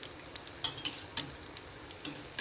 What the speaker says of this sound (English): now let it fry on one side for around 15-20 seconds and then we'll turn it around